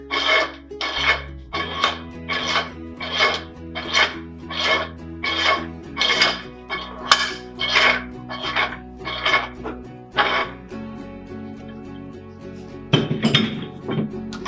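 A sub being tightened onto the dual firing head housing of a TCP tool: a regular series of about a dozen metallic ratcheting clinks and rasps, close and distinct, then a brief scrape at the end.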